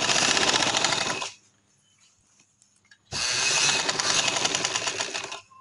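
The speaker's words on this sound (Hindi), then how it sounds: "वापस उधर से हमने दरमियान में सिलाई ऐसे लगा लेनी है" Sewing machine stitching pajama fabric runs in a loud, steady whirring burst, stops for about two seconds of near silence, then starts again and runs steadily to the end.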